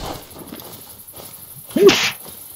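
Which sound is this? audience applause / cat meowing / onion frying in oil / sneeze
sneeze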